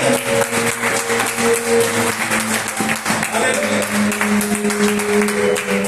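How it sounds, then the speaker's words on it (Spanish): A church congregation claps together, a dense, loud burst of applause blended with a sustained musical tone and some voices. "Dale un aplauso al Rey de Reyes. Hacelo fuerte, aleluya."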